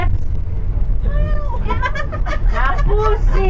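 Several people imitate a cat with drawn-out, rising and falling meows, overlapping one another over a low, constant vehicle rumble, with a voice talking briefly at the start.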